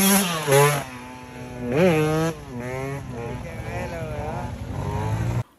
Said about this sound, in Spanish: la moto más exótica en este momento es el YZ